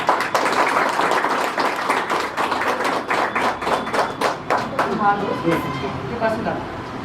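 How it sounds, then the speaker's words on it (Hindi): Audience clapping at an award function for a blind welfare association, sustained and fairly close, with talk and murmuring mixed through the applause. "सीपी सर के लिए बहुत बहुत तालियां।"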